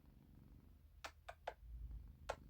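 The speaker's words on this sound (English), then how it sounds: "Now he's a purring boy." A house cat named Jellybean purring faintly and close by, a low steady rumble broken by a few soft clicks and rustles.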